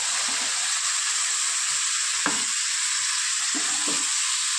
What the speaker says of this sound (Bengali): অল্প জল দিয়ে কষিয়ে নেবো।